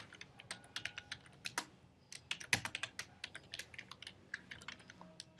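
Irregular clicks of a computer keyboard being typed on while coding in Swift in Xcode, crisp and close but fairly quiet, in uneven bursts with short pauses and no talking.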